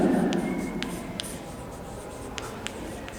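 Chalk or marker writing physics notes on a classroom board, a series of short scratchy strokes and taps in irregular bursts, faint and close, with a voice audible briefly at the start.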